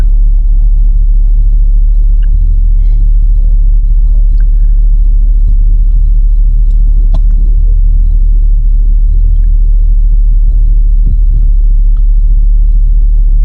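A truck in four-wheel drive idles with a loud, deep, steady rumble as it takes up the slack on a rope tied to a fallen log. The engine sits close and constant, with faint clicks and no speech.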